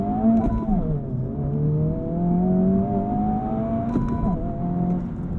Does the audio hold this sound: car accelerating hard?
yes